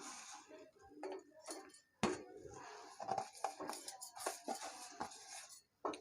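Fried coconut being dropped into a mixer grinder jar in a home kitchen, light clinks and knocks in scattered, irregular taps, quiet and close.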